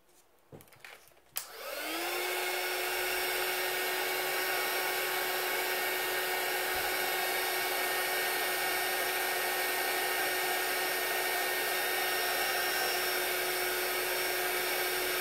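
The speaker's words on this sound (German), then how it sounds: "Muss ich jetzt leider föhnen, weil sonst dauert es einfach zu lang." A hair dryer blows steadily on a freshly painted handmade card, starting with a click and rising quickly into a loud, continuous whirring roar that holds for over ten seconds.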